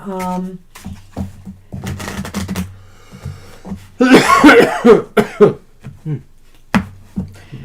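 A burst of harsh coughing breaks out in the middle, loud and close, with people talking before and after it.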